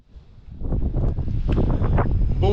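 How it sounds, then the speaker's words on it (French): A strong, gusty bise wind buffets a small microphone outdoors, building quickly into loud, rumbling blasts that continue to the end. "Il y a du vent, il y a de la bise, mais énormément."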